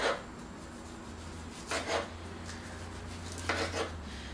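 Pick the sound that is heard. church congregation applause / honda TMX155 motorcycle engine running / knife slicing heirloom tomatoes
knife slicing heirloom tomatoes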